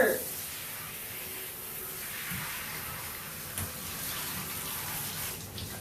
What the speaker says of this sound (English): I'm rinsing him off